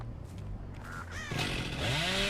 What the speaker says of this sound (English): Might as well get a chainsaw hit.